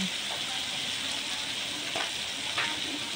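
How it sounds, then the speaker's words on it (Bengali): Duck meat goes into hot oil in a pan and fries with a loud, continuous sizzle and hiss, broken by a few soft stirring knocks, close up with no talk. "তো এই যে দিয়ে দিচ্ছে হাঁসের মাংস"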